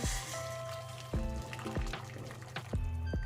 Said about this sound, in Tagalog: So lagyan ulit natin ng tubig.